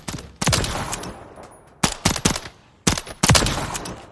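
Beretta M9 pistol fired in Call of Duty Modern Warfare III, several sharp loud gunshots in quick groups of two or three, each with a short echoing tail, close and clear.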